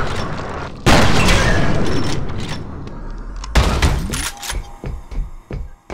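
The god gun fires in the video game FEAR with loud, close booming blasts: a heavy sustained roar, then a second burst followed by scattered thuds and clanks.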